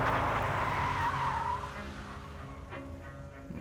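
A car brakes hard to a stop at the roadside, its tires skidding in a loud, drawn-out squeal that fades as the vehicle settles, followed by a low idling rumble.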